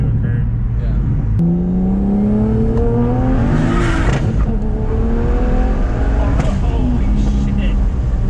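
A single-turbo BMW 335i accelerates hard into boost, its engine note rising steadily through a loud pull with a shift and another climb, while people in the car exclaim over it.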